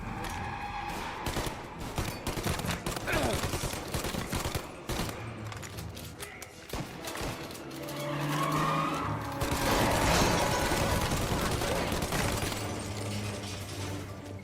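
Gunfire in the video game Mafia Definitive Edition: rapid bursts of shots crackle throughout alongside car engine and screeching tire sounds, loud and continuous.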